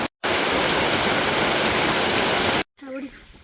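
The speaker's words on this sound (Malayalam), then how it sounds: "മഴ എന്ന് വെച്ചാൽ ഭയങ്കര മഴയാണ്" A loud, dense downpour of heavy rain in Kozhikode hisses continuously for a couple of seconds, then stops abruptly and a voice briefly speaks.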